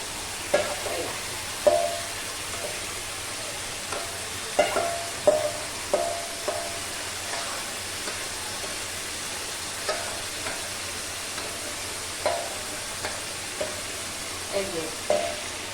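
Minced meat with potatoes sizzles steadily in a frying pan while a spatula stirs it, scraping and clinking in irregular bursts over a continuous low frying hiss.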